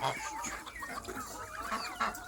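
Chickens in a yard clucking close by, a busy run of overlapping cackles and chirpy calls with no talking over them.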